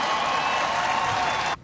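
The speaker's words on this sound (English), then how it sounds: "As soon as he said, we passed health care reform, crowd goes wild." A political rally crowd in Madison, Wisconsin bursts into loud, sustained applause and cheering after Obama mentions passing health care reform, a dense wash of clapping that cuts off abruptly.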